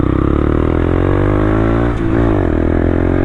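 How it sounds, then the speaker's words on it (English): Honda Grom mini bike with a small 125 cc engine ridden off road on street tires, its loud, close motor droning steadily with a brief dip and rise in revs partway through. "This thing's just a freaking dirt bike engine."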